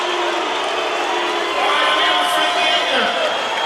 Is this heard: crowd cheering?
yes